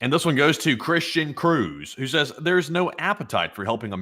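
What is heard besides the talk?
No everyday noises stand out.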